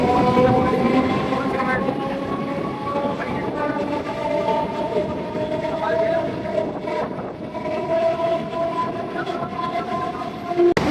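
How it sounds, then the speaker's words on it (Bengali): A passenger train runs at speed at night between Durgapur and Bardhaman, with a loud, steady rumble and clatter of the carriages that carries on throughout, close and continuous. "ট্রেন কিন্তু বেশ স্পিডেই চলছে"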